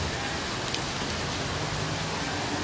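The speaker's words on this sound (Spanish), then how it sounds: "en medio de esta lluvia" Steady rain hisses throughout a live outdoor street broadcast in Siloé, a dense, continuous, close wash of falling drops with no voices over it.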